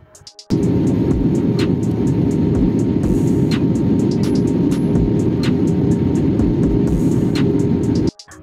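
Airplane landing: a steady, loud, broad roar of jet noise starts abruptly, holds evenly for about eight seconds, then cuts off, with faint ticks over it and no talking.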